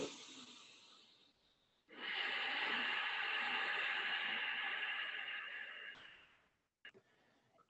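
Ocean-like yogic breath drawn with the mouth closed: a brief soft breath, a pause, then one long, steady, throaty hiss lasting about four seconds, close and quiet, with small clicks at the end.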